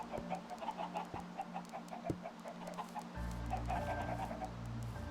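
Minecraft chickens cluck in a steady scatter of short calls over a low hum, with a couple of sharp clicks along the way.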